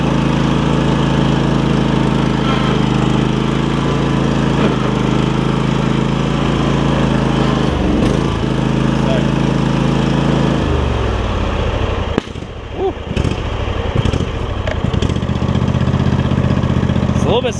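Kohler Courage V-twin engine on a Craftsman DYS4500 riding mower idling slow and slightly rough, a steady close drone that dips and shifts partway through, with voices talking over it.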